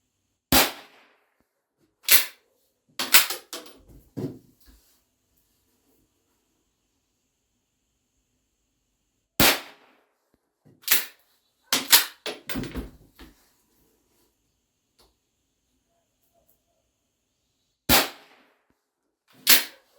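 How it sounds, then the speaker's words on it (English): Sharp rifle reports from a Winchester 1890 firing .22 WRF rounds, sounding as a few close, loud cracks spaced seconds apart, with clattering action-cycling clicks and rustles between some shots. "It shot all 5 and it ejected all 5."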